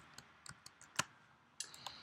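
Faint, scattered computer keyboard key presses while navigating in the Vim text editor: about half a dozen sharp, isolated clicks at uneven intervals, quiet and close, with no talking.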